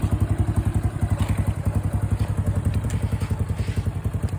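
A modified Yuki Gusto 125cc scooter engine runs with a steady, deep, thumping exhaust pulse, rapid rhythmic pops close by with light mechanical clatter.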